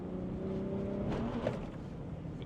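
Ford F-150 Raptor with a twin-turbocharged V6 accelerating off-road, a close, steady engine roar that builds briefly before easing, with no talking over it.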